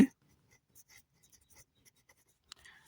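Numbers are written by hand with pen or pencil on paper, producing faint, short scratchy strokes in small bursts over near silence, with no talking.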